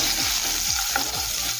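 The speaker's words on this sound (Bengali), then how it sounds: "এখন এই তেলের মধ্যে দেবো ছোটো ছোটো করে কেটে রাখা আলু টুকরো" Small cut potato pieces with salt and turmeric frying in hot oil in a pan, a close, continuous sizzle with soft stirring scrapes.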